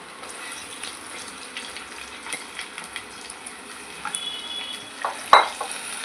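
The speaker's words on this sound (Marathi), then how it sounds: "आणि वांगी आपल्याला परतून घ्यायचे आहेत यामध्ये।" Eggplant sautés in a pan for a spicy cauliflower and eggplant curry, with a steady hiss and occasional scrapes that build to a sharp clank near the end.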